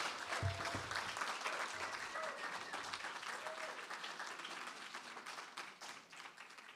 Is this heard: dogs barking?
no